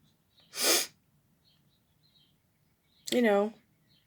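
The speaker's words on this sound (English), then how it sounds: "I think I'm going to sneeze again" Two separate sneezes or sneeze-like bursts a couple of seconds apart, the first an airy hiss, the second voiced and louder, in quiet surroundings.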